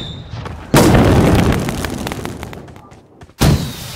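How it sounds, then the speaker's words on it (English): Loud booming cannon blasts in BGMI, one heavy shot followed by a long fading rumble, then a second sharp blast near the end. "Cannons are out."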